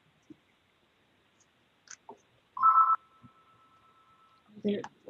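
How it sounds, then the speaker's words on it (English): A single short electronic telephone ring sounds midway through a quiet room during a board meeting, followed by a lingering tone, with a few faint clicks and a brief voice. "That's the phone ringing."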